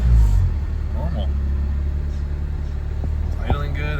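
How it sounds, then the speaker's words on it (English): A Honda Civic engine with low compression idles steadily nearby, a low even rumble after a louder start, with faint clicks and a short rattle toward the end. "It's idling good."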